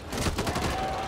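Loud, rapid bursts of gunfire come from the zombie shooter video game Back 4 Blood, a dense rattling volley lasting about a second.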